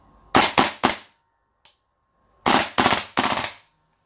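We SCAR-L gas blowback airsoft rifle, a stock gun running green gas, fires two loud, sharp bursts of three rapid shots each, separated by a brief faint click and a quiet pause.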